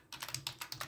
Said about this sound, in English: So we'll just need to type in here now